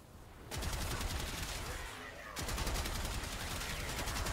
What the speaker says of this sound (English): Just shooting with this weapon is just like so much fun, dude